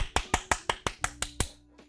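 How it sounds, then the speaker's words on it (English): Eight sharp hand claps right next to the microphone, loud and evenly spaced in quick succession, followed by a fainter ninth clap as the rhythm trails off. "I'm sure everyone just got deafened by my claps near the mic"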